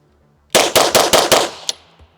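Rapid string of five loud, close gunshots from a Canik Rival pistol fitted with a DPM recoil reduction system, followed by a sixth shot and a fading echo outdoors.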